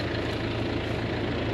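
A Kubota M7 tractor engine idles on a farm: a steady, low diesel rumble with an even throb, running continuously and fairly close, with no voices over it.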